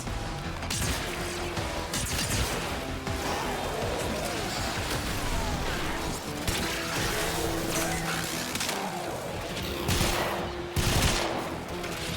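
Rapid bursts of gunfire from the video game Warframe, in a Technocyte Coda farm, crackle and rattle continuously with crashes and impacts mixed in, dense and loud throughout.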